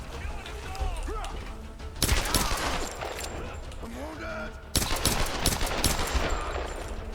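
Gunfire in the Tomb Raider video game comes in two sudden loud bursts of rapid shots amid crashes and clatter, with someone talking over the fighting.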